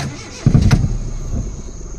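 A vehicle engine cuts out on a night drive through a forest wildlife sanctuary, with a sudden loud thump and rumble at about half a second, then a low fading drone that continues to the end.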